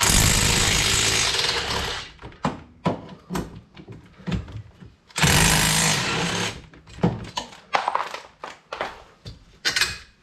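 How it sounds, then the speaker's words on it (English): A power tool works loose the two 9/16 bolts on the back of a brake caliper on a classic Mini Cooper. Two loud, sustained bursts of hammering rattle come close by, separated by scattered metallic clanks and knocks. "Next up, we got two 9/16 bolts on the back of the brake caliper."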